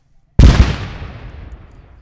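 Controlled detonation of unexploded ordnance during clearance work in Sudan: a single loud, close blast that hits suddenly after near silence, then rumbles and decays slowly over more than a second, with no talk.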